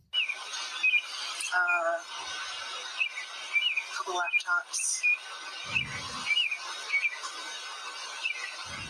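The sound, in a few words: birds chirping at early morning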